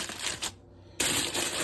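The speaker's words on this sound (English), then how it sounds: "I'm going to bring the edges up. You can make like a vessel out of it." Aluminum foil being crumpled and folded up into a boat around beef ribs: close, crisp crinkling bursts, broken by a brief quiet pause before the rustling resumes.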